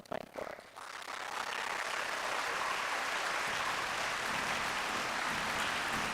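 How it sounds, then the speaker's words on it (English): Loud, sustained applause from a large crowd at a school graduation ceremony builds quickly after a few scattered claps and continues steadily. "give a thunderous round of applause"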